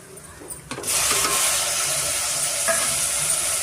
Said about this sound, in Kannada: ಟೊಮೆಟೊ ಸೇರಿಸ್ಕೊತಾ ಇದ್ದೀನಿ ನಾನು.